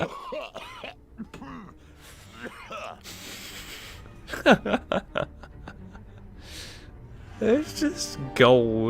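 In the Harry Potter and the Prisoner of Azkaban PS2 game, a character coughs and clears his throat in several short, harsh bursts, with a person talking between them.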